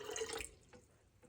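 Warm water poured into sourdough bread dough, a brief splashing trickle for about half a second, close and fairly loud, then quiet with a couple of faint clinks.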